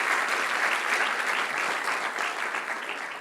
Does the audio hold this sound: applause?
yes